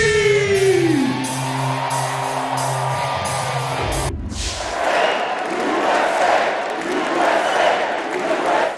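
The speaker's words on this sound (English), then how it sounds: "Say Trump! Scream" Sweeping tonal sounds give way to a packed crowd at the Republican National Convention, roaring, yelling and whooping in loud continuous waves.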